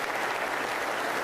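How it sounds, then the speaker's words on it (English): Brief burst of audience applause in a hall during a university athletic director's speech event, dense and steady, with no voices over it. "Let's give a round of applause for yourselves"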